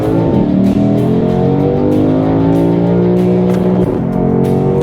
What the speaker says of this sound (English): it does hit a bounce off a rev limiter